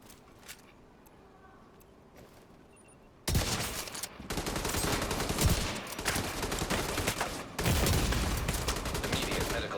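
Marksman rifle fire in Division 2: after a quiet stretch, a sudden loud volley of close gunshots and cracks, then sustained rapid firing with sharp bursts at intervals, loud and continuous to the end.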